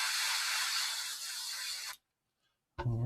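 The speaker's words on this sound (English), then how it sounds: "And we'll just check our spray." A spray gun hisses in one steady, loud burst of about two seconds as it test-sprays thick grey paint, then cuts off into silence before a brief voice begins.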